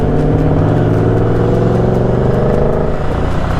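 A red Ford Mustang Shelby sports car engine runs loud and close, holding a steady throaty drone with a slight rise in pitch, with no talking.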